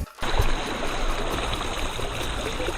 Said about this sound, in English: we're filling up with water.